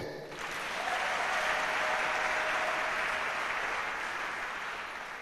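A church congregation applauds and cheers in acclamation of the Lord during a French-language worship service, a sustained wash of clapping that swells and holds evenly throughout, heard at a moderate distance.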